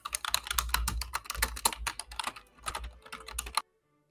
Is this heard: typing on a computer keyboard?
yes